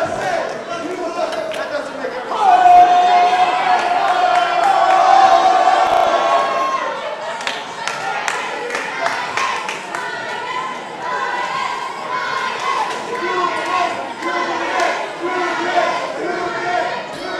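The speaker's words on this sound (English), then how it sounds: "We've got a divided crowd here today at Mayhem. Half chanting for Julian, half chanting for Titus." A divided crowd at an IHW wrestling show, Saturday Night Mayhem, chanting for Julian and Titus, a loud sustained roar of voices with rhythmic chants and shouts throughout, while a commentator speaks over it.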